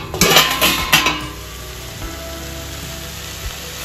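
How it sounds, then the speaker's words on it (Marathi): A lid being lifted off a cooking pan, a few close metallic clinks and scrapes at the start, then a soft steady sizzle of the cooking food. "हे बघा मी परत झाकण लावलेलं आता काढते।"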